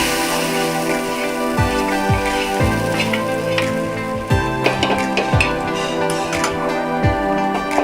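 Tomato added to frying chole masala in a pan, producing crackling sizzle under repeated clinks and scrapes of a spoon against the pot, moderately close and busy throughout.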